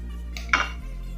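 Spoon scraping and clinking against a metal pot while milk thickened with cornflour and milk powder is stirred for malai ice cream, a brief close burst of scraping between quieter moments, with no speech.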